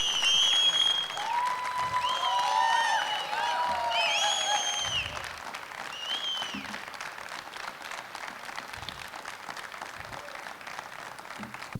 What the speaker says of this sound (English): give a big round of applause to our special guest